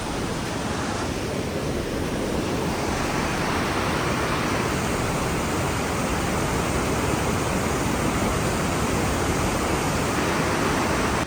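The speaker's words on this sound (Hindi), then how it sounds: "फ्लो बहुत तेज़ है नीचे" Fast-flowing river water rushing beneath a bridge in the mountains near Hunder and Turtuk, a loud, steady broadband roar that fills the whole stretch with no pause and no voices.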